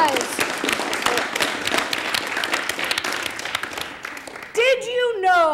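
Workshop participants applaud themselves in a close, brisk burst of clapping lasting several seconds, then it thins out as a voice starts talking.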